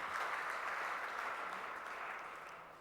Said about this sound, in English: Let us give a big clap to Dr. Powathil